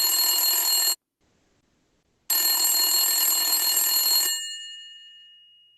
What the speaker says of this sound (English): Let us call him in his cell phone